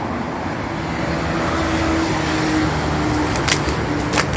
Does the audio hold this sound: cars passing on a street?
yes